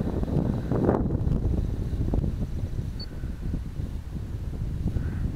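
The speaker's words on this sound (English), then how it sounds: "So there's a pretty good gust." Strong wind gusting outdoors in a yard where a small Blade Nano QX quadcopter is being flown, a steady loud rushing roar buffeting the microphone throughout, swelling around the first second.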